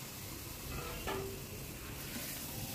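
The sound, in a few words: chicken marinated with salt and turmeric added to hot oil, sizzling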